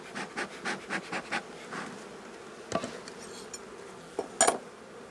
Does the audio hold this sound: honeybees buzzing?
yes